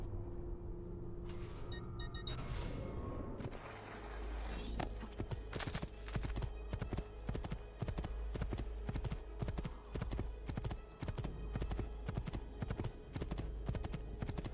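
Steady clip-clop of horse hooves at a trot in Assassin's Creed 2, close and rhythmic, over a low rumbling game soundscape after a brief whinny-like sound at the start.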